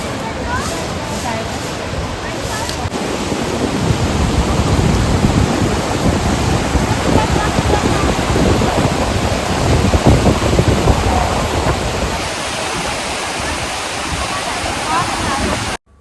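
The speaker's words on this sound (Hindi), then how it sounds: "वहाँ पे पानी का फ्लो" Rushing water of the Ganga river at Gangotri, a loud, steady broadband roar of fast-flowing water filling the whole stretch, close and continuous, with faint voices mixed in beneath it.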